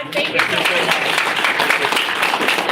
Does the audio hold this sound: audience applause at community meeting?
yes